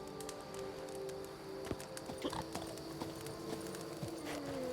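A horse pulling a cart in The Witcher clip-clops along in a steady rhythmic trot, the hoofbeats moderate in loudness, with creaking and rolling underneath.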